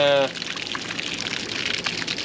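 Water runs steadily through an NP Global portable water softener, a continuous hissing trickle and splash that follows a brief voice at the start.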